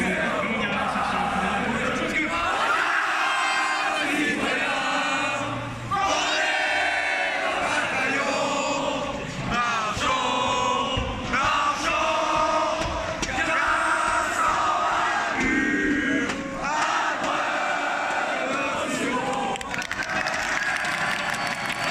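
Passionate esports arena crowd roaring, cheering and chanting in waves, loud and dense throughout with rhythmic chant bursts and massed shouting.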